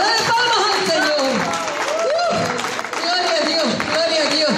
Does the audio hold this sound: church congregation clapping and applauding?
yes